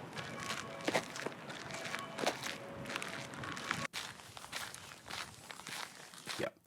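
Soft footsteps crunch steadily along an outdoor park path, quiet and close, with faint ambient outdoor background around them.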